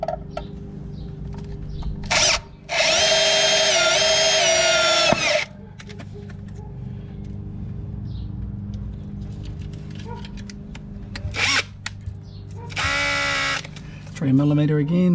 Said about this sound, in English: Use the sharp drill bit first.